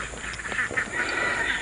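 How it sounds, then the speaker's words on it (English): Ducks quack in a duck pen, several close, rough nasal calls overlapping in a brief busy burst. "And of course the baby ducks."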